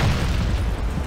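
A grenade blast in the mobile shooter Shadowgun War Games during a 5 vs 5 PvP match, a loud, deep, rumbling explosion sustained throughout at close range.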